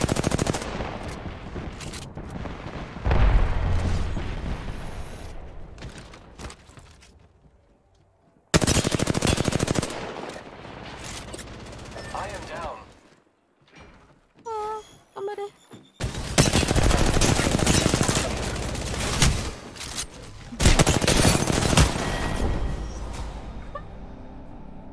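Gunfire in the Apex Legends video game comes in several loud, rapid automatic bursts separated by short gaps and quieter stretches, with a few sharp isolated shots between them.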